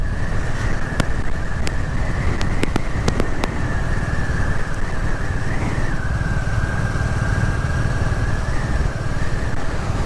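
A Royal Enfield 350 Classic motorcycle cruising along back roads: a steady, close engine hum runs throughout, mixed with constant wind rumble and a few sharp clicks.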